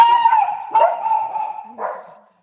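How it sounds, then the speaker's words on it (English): Dogs in a residential courtyard barking and yelping loudly during a cat fight, several overlapping excited barks and whines in quick succession, close and intense. "we've got a cat fight in the courtyard that the dogs are helping with"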